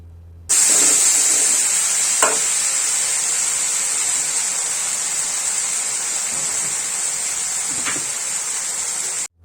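Spice paste with salt and turmeric fries in a pan for a traditional Bengali fish-head shukto, giving a loud, steady sizzling hiss that starts abruptly and runs unbroken, with a couple of faint clatters.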